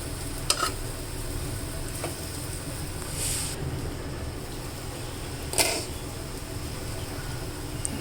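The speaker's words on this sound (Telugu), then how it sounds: "వంకాయలు కాస్త నూనెలో మగ్గితే బాగుంటుంది" Brinjals softening in oil over a low flame, giving a steady soft sizzle with occasional brief stirring clinks, no voices.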